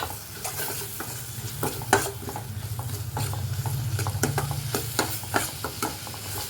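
Tomatoes, green chillies and garlic sautéing with asafoetida for a roasted-gram sambar, with a close, continuous sizzle and frequent quick scraping stirs of a spatula in the pan, no talk.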